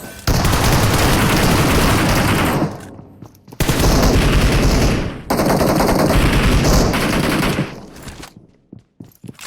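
Loud, sustained automatic gunfire bursts in the battle royale game PUBG Mobile, three long continuous volleys separated by short gaps, with no voice over it.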